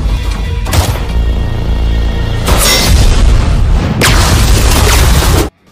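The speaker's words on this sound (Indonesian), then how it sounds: "berhasil menjebak para anak buat Temple dengan sebuah tangki yang mudah meledak" Heavy explosions boom in quick succession, three loud blasts each followed by a roaring rumble, ending in abrupt silence.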